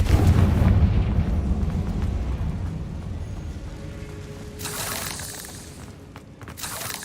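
A Confringo fire spell in Hogwarts Legacy bursts with a heavy boom that rumbles and fades, then sharp crackling impacts and debris follow in two bright bursts, with no talking.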